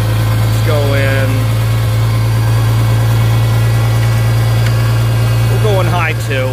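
A gas garden tractor engine runs steadily in high range and direct drive, a close, droning low hum with brief voices over it.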